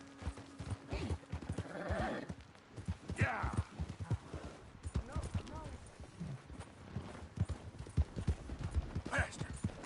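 Horse galloping in Red Dead Redemption II video game, a steady rhythm of hoof clops mixed with snorts and the occasional whinny, close by, with brief talk over it.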